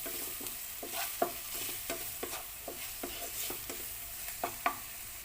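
Vegetables with a pinch of salt stirred in a pan, a spoon making a dozen or so rhythmic scraping strokes over a soft, steady sizzle, close and fairly quiet, with no voices.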